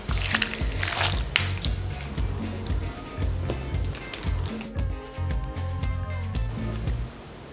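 Shrimp agua chile with avocado, accent seasoning and cracked black pepper tossed in a bowl, making wet squishing and clattering bursts over a steady low hum, with a quieter, sparser stretch toward the end.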